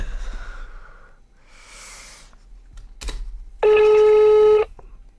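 A home telephone being dialed, a few soft clicks and tones followed by a loud, steady electronic ring tone lasting about a second, heard alone in a quiet room.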